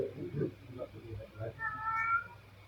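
A voice imitates a cat's meow, a short drawn-out mewing sound rising near the end amid his low, quiet speech.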